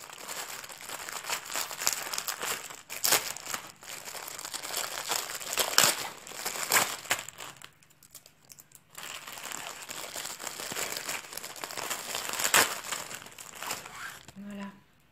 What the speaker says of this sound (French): Je vais mettre plus longtemps à ouvrir le papier qu'à faire. Ça doit faire du bruit